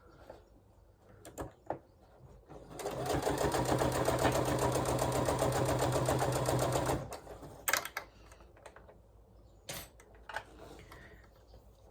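A sewing machine stitches a fabric project bag in one fast, continuous run of rapid needle clatter lasting about four seconds, with quiet handling and clicks before and after.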